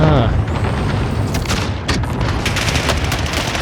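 A loud explosion in Call of Duty Warzone opens into a dense, sustained burst of gunfire, with sharp repeated shots rattling close up throughout.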